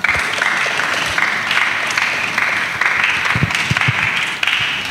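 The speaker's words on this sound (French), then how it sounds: "Acclamons très fort." A church congregation applauds loudly and continuously, with many hands clapping at once in a dense, sustained roar and occasional sharper claps standing out.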